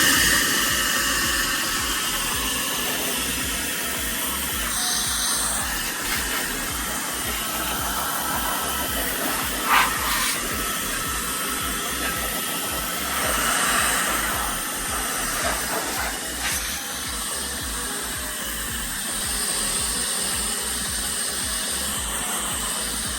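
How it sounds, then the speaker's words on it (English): Milwaukee M18 Precision Blower running on speed 3 while clearing sawdust off a miter saw, giving a continuous loud, breathy rush of air that changes slightly in tone as the nozzle moves, with no talking. "That's the brand new Milwaukee M18 Precision Blower."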